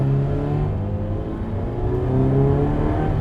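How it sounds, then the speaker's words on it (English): A Ferrari 328 GTB V8 engine revs and holds a deep, throaty drone close by, its pitch rising and falling slightly, with no talking. "That engine sounds so fabulous."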